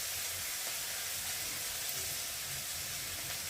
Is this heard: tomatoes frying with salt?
yes